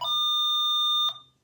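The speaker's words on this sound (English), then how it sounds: "I'm going to go ahead and put it back on the flute sound." An electronic mini keyboard set to its flute voice holds one steady, clear note for about a second before it cuts off, heard alone and close.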